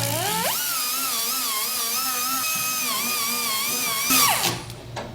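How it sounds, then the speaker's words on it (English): An electric sanding pad whirs steadily as it strips paint from a car hood, its pitch wavering slightly under load before winding down at the end. "I'm going to sand the paint off and the little spot weld divots will show up"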